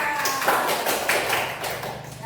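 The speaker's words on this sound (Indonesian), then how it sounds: "tepuk tangan untuk kelompok 2" Classroom applause for student group 2, a couple of seconds of brisk, overlapping hand claps from a group of pupils, close and fairly loud.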